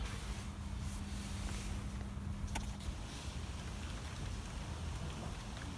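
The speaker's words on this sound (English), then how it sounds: "the heavens have opened, it started raining." Rain falls steadily on a garden, a soft, even hiss of drops on leaves and surfaces, with a faint low hum briefly present early on; no voices.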